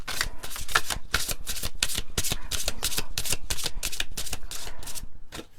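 A deck of cards being shuffled close up, with rapid riffling bursts repeating steadily for several seconds before easing off at the end, with no talking.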